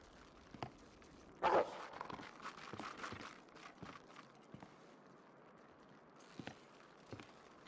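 A dog or wolf in the survival video game The Long Dark gives a short, loud burst of barking, followed by faint, scattered footstep-like sounds and light game ambience.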